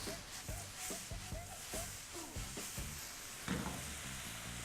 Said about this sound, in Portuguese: Então agora a gente vai saltear essa cebola.